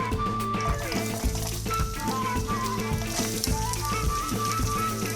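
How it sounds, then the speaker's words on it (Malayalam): Coconut pieces frying in melted ghee, a dense continuous sizzle, close and fairly loud, with a repeating low rhythmic hum and light stirring. "അപ്പം നമ്മുടെ തേങ്ങാക്കൊത്ത് നമുക്ക് ഇതിലോട്ടൊന്ന് ഇട്ട് കൊടുക്കാം."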